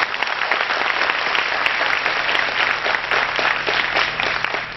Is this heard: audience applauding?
yes